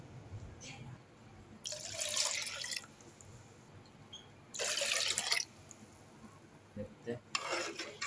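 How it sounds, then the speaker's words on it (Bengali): Water pours into a bowl of beaten egg for a Thai-style soup in three separate splashy bursts of a few seconds each, separated by quieter pauses with light kitchen clatter. "এখন এর মধ্যে আমি বেশ খানিকটা পানি দিব।"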